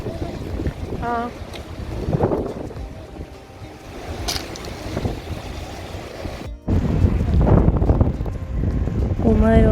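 Cold wind gusting outdoors at a petrol stop during rain, a steady rushing buffet on the microphone with voices talking over it and a sharp knock partway through.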